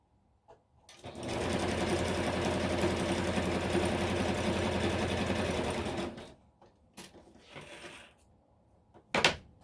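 A sewing machine stitches a flap onto a junk journal pocket made from packaging, running in one loud, steady mechanical burst for several seconds before stopping, followed by a few quieter handling clicks and rustles.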